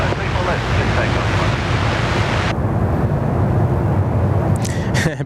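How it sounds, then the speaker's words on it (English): A jet airliner arriving at Sydney Airport, heard as a loud, broad roar mixed with heavy wind buffeting the microphone, the rush easing partway through while faint voices come and go. "A bit of love coming in there for the Jaffa jet."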